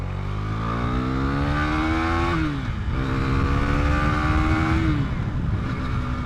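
A Husqvarna Vitpilen 401 motorcycle accelerates hard through two gear changes, its engine note climbing steadily, dropping at each shift and rising again, loud and close with continuous wind rush.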